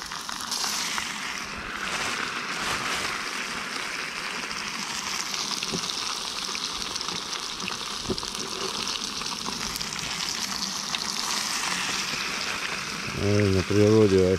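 Steady loud sizzling of grayling frying in a pan outdoors, a dense crackling hiss throughout, with a brief tonal sound near the end.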